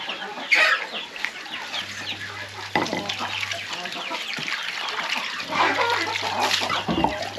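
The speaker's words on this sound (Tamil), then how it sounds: "ரெண்டு வெள்ளை குஞ்சு அதே மாதிரி ரெண்டு கறி குஞ்சு ஒரு பொன்ற குஞ்சு இந்த மாதிரி எல்லா வகையான குஞ்சுகளுமே இருக்கும்" Chickens and chicks of several kinds, white chicks and broiler chicks among them, cluck and peep steadily on a farm in the rainy season, a dense, busy chorus with no talk over it.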